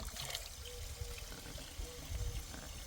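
Water running from a cemetery tap onto a hat during a hot-weather walk on the Via Francigena, a steady trickling pour with low outdoor rumble throughout, no voices.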